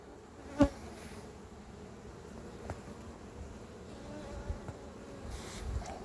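Honey bees hum around a hive on a farmer's field during a honey flow, making a steady soft drone of many insects with one brief louder pass close by.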